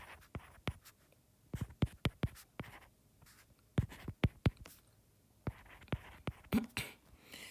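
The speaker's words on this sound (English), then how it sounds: "Let's go ahead and write this off to the side." A pen scratches a formula onto paper, making short, quiet, irregular strokes and taps in close-up with pauses between bursts of writing.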